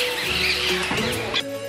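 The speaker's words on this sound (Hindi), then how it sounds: "यहाँ पे ये पक्षियों का कलरव हमेशा ऐसा ही बना रहता है।" Birds chirp and call in a nature park, a dense mix of short tweets and squeaky notes layered over steady outdoor ambience, fairly close and without talk.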